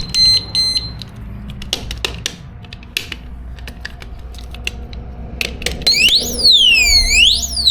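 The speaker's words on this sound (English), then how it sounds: "just so you guys can hear what this alarm sounds like, and it turns off with the key" An aftermarket audible alarm on a Kawasaki Z400 motorcycle, starting with a few sharp chirps and clicks, then rising into a loud, close, sweeping wail with repeated up-and-down siren tones.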